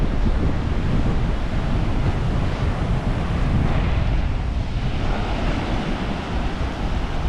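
Continuous roaring surf with heavy wind rumble on a beach in Da Nang, Vietnam, waves washing in a steady broad wash without any voices.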